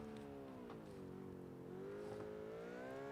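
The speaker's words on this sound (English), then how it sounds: "I find it crazy how this engine makes almost no noise. It's a V16." A V16 car engine in a driving video game hums quietly and steadily, a smooth low drone whose pitch dips and then rises gently, with no sharp revving and no talk over it.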